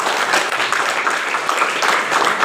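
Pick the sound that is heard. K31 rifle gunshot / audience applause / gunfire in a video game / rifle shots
audience applause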